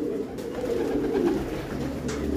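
Tacloban pigeons cooing in a loft, a steady low murmur of overlapping coos close by with no talking.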